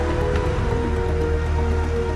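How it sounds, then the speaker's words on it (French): Rain falls steadily during a hilly Tour de France 2004 stage between Liège and Charleroi, a continuous close hiss with no voices. "Entre Liège et Charleroi, sur un parcours vallonné, il pleut"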